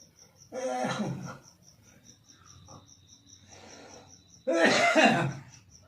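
A person coughs harshly and clears their throat to bring up phlegm. Two loud bursts come a few seconds apart with a softer throaty sound between them, and crickets chirp steadily in the background.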